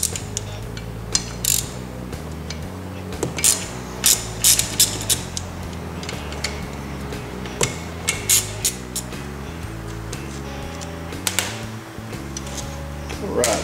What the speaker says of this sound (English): Next we're going to remove the 4 screws that holds the pump housing in place.